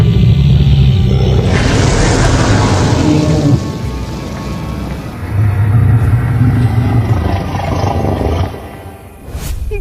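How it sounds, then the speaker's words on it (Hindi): A cow ghost's roar as a horror sound effect: a loud, deep growling roar that swells, eases, then surges again before fading, close and unaccompanied by speech. "ये कहते हुए गाय की भूत जोरों से गरज उठा।"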